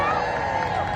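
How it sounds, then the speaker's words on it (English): Brief burst of dense crowd applause and cheering for Betty McCollum at the Hands Off mass mobilization rally on April 5, 2025. It is loud and steady across the whole moment. "Let's have a big round of applause for Betty McCollum."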